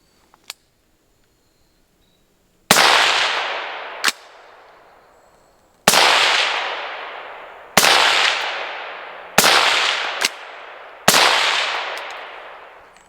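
Five sharp, loud suppressed 5.56 rifle shots fired through the third suppressor, spaced roughly one to two seconds apart, each with a burst and a decaying tail, plus a few faint clicks between them.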